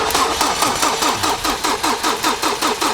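Volvo V70 flex-fuel petrol engine cranking on its starter after a head gasket rebuild, a steady rhythmic chug-chug of the starter turning the engine over, loud and close, without catching.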